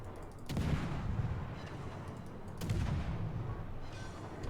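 Destroyer turret fire in a naval battle game: two heavy booming shots a couple of seconds apart, each followed by a rumbling tail.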